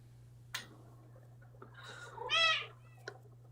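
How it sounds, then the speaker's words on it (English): A talkative pet cat at home gives a short chirp, then a rising meow that peaks loudly near the end, over a steady low electrical hum in a quiet room. "Oh my god, did you hear my cat?"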